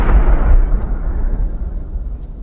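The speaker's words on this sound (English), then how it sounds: "They were firing cannons and the shell managed to hit the striding tripod." A heavy, booming cannon shell explosion opens with a loud blast, then a long low rumble rolls on and slowly fades, with no voices.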